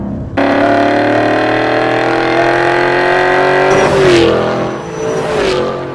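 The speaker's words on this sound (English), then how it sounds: "Borla offers the Attack technology for the 2011 5-liter Mustang." A 2011 Mustang with a 5-liter engine and a Borla Attack exhaust holds a loud, steady drone. Toward the end it revs up and dips with a rising snarl, all close and with no talking.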